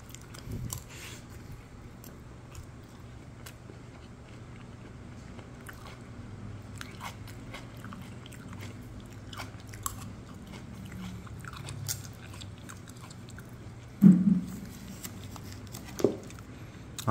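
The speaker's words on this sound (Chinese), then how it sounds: "便当开始吃起啊。" Soft, close chewing and occasional crunchy bites while someone eats a bento meal with grilled vegetables from a Thai restaurant in Yonghe. The sounds are quiet, with no talking.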